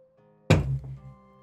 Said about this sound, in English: It's a very loud thump when I set it down.